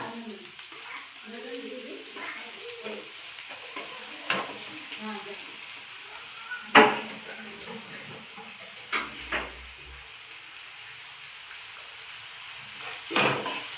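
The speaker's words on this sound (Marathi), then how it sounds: "कांदा टाकलेला आहे कांदा आणि कांद्याला कांदा आपण खरपूस भाजून घेऊया" Onions for a bitter gourd curry fry in oil with a steady background sizzle, broken by occasional stirring scrapes and a few sharp clanks of a utensil on the pan.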